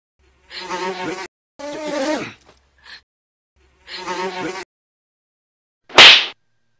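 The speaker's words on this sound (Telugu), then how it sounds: "దోమ నిన్ను డిస్టర్బ్ చేస్తానుగా, అందుకే చంపేశా" A mosquito whines in three separate buzzing bursts, close and fairly loud against silence, then a sharp slap rings out.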